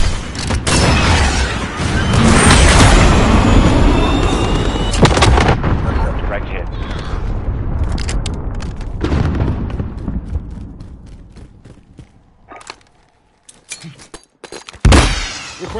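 Artillery fire called in during a Modern Warfare video game match rumbles with heavy, loud booms and explosions that fade out, then one last blast near the end, with brief radio-style voice chatter.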